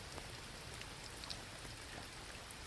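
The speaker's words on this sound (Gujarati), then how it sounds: "અત્યારે તો ચાલુ થઈ ગયો વરસાદ" Steady rain patters across a freshly irrigated farm field, a soft even hiss with scattered drops and no voices.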